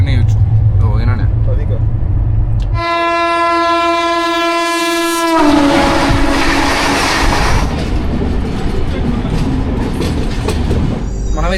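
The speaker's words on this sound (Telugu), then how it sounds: "ఈ ట్రైన్ వచ్చేసి గోరఖ్పూర్ సూపర్ ఫాస్ట్ ఎక్స్ప్రెస్" Gorakhpur Superfast Express rolling along the line, with rumbling wheels, a loud sustained horn blast lasting a few seconds, then continuous clattering and squealing of wagons.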